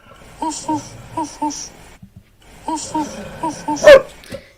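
A small runt puppy yelps and whimpers in short repeated bursts, close by, with a louder sharp yip near the end and people talking in the background.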